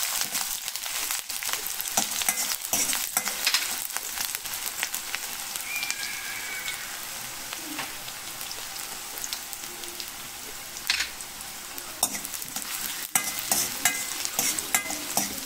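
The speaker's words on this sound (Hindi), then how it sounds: "प्याज को हल्का सा गोल्डन होने तक उसको हमको फ्राई करना है।" Onions fry with a bay leaf in an iron kadai for a dal and spinach soup, giving a steady close sizzle with frequent stirring scrapes and clinks. No voices.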